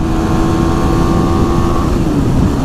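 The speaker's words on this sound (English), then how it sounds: "I'm at wide open throttle right now" A KTM Duke 390 motorcycle engine runs at wide open throttle near its 10,000 rpm red line, giving a loud, continuous, strained drone with a steadily rising whine that tails off.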